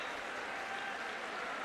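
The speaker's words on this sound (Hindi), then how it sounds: "जोरदार तालियां बजती रहें" Applause from an audience at an appointment letter ceremony for MCD employees, a steady wash of clapping that holds at an even, fairly quiet level throughout.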